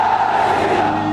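A large crowd shouting together in a loud, dense roar, a sustained mass of voices with no pauses across the moment.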